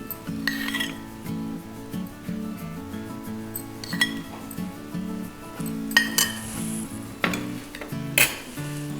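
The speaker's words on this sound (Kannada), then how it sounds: "ಸ್ಟವ್ ಮೇಲೆ ಒಂದು ಪಾನ್ ಇಟ್ಟು ಅದನ್ನು ಹಚ್ಕೊಳ್ಳೋಣ ಇದಕ್ಕೆ ಒಂದು ಎರಡು ಚಮಚದಷ್ಟು ತುಪ್ಪವನ್ನು ಹಾಕ್ಕೊಳ್ತಿದ್ದೀನಿ" A pan set on a stove clinks and clatters at close range while ghee goes in, with soft metallic knocks and a faint sizzle over steady background music, with no talk.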